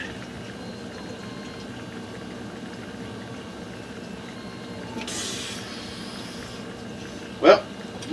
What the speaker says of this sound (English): Somebody just flushed the toilet.